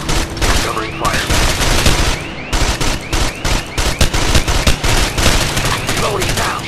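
Sustained covering gunfire in the video game Ghost Recon Advanced Warfighter, with dense, overlapping bursts and shots rattling loudly and almost without pause, close and busy throughout.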